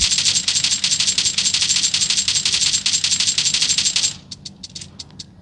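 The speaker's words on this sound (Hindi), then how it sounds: "PUBG के अंदर आप लोग साउंड यहाँ पर गन के फायर" Rapid automatic gunfire from the PUBG video game, a dense crackling burst of shots lasting several seconds, followed by a few short separate shots as it tapers off.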